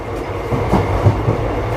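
The Teesta Torsha Express rumbles loudly on its run into Azimganj, a continuous heavy rail roar with faint clicking of wheels, heard from inside the train with no voices.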